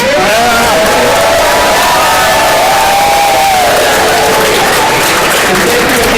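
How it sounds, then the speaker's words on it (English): A large crowd at a Unified Sports games event lets out a loud practice cheer, sustained shouting and whooping with children's voices mixed in, filling the space for several seconds. "Enjoy the competition. Cheer loudly. You want to practice one time?"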